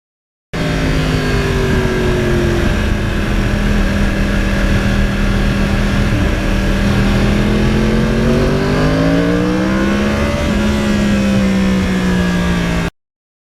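A 2009 Yamaha R1 sport motorcycle engine while riding, a loud, sustained close-up drone with a steady pitch that rises and falls through gradual throttle changes, heard alone over continuous wind rush.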